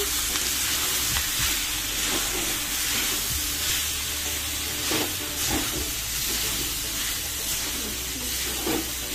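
Sabudana khichdi sizzles steadily in a hot pan while a spoon stirs it, with soft scraping and bubbling bursts over a constant frying hiss, close and fairly loud.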